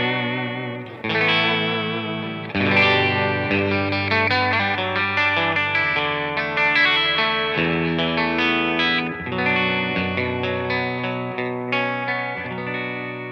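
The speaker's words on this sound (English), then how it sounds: "let's hear what the guitar and the amp sounds like with just a touch of delay" Electric guitar played through an amp with a light touch of delay, part of a silicon Fuzz Face style pedal demo; full sustained chords and melodic lines ring out steadily, alone and close, with a soft echo tail.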